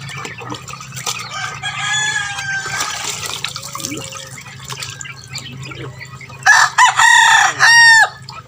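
A rooster crows loudly nearby, with other fowl clucking and calling in the background over a steady ambient hum.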